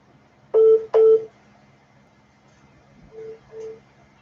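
Telephone dialing tones sound as two loud, closely spaced beeps followed after a pause by two fainter beeps, clear over a quiet background with no talk.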